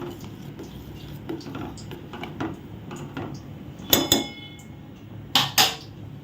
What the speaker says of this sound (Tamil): நம்ம அப்படியே இப்போ கரண்டி வச்சு கிண்டி விடுவோம்